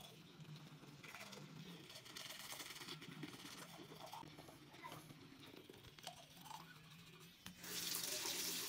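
Tap water runs steadily into a sink during a morning tooth-brushing routine, a continuous close splashing wash that grows louder and brighter near the end.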